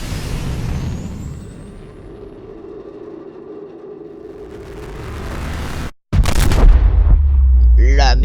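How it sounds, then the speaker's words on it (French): A huge explosion in the video game Subnautica: a low rumbling build-up, a brief silence, then a sudden loud blast with heavy low-end roar and crackling debris. "La méga explosion des enfers."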